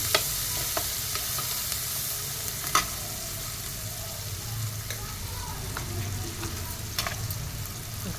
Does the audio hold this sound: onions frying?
yes